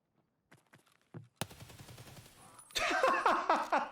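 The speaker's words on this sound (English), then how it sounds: "I did pre-fire. I was not intending to actually kill the player. What I was trying to do is shoot off some shots" Gunfire from pre-firing in Escape From Tarkov: a few faint early pops, then a sharp loud shot followed by a rapid burst of automatic fire that grows louder and denser toward the end.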